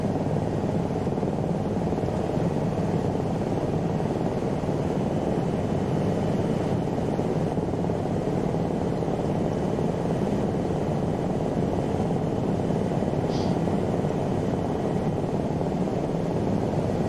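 An Aérospatiale Lama SA315 helicopter maneuvers in strong winds near Chamonix, producing a loud, unbroken rotor and engine drone that holds steady throughout, heard close up.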